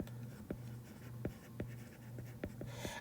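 Pen or marker strokes as an equation is written out, a steady series of short scratchy marks over a low background hum, close and fairly quiet.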